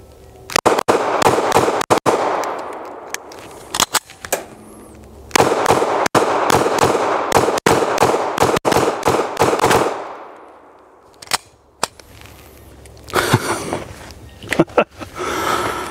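Pistol shots from a handgun fitted with a G-Flex trigger crack out in rapid strings, loud sharp reports in quick bursts separated by short pauses, with a voice speaking in between near the end.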